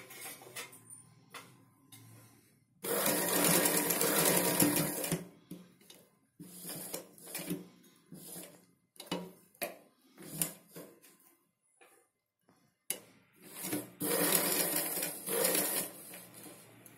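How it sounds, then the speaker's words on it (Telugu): A regular domestic sewing machine runs in bursts, stitching the edge of a saree, with a rapid mechanical whir that starts and stops, long runs alternating with short clicks and pauses. "ఇప్పుడు నేను మామూలు మిషన్ తో స్టిచింగ్ చూపిస్తున్నాను"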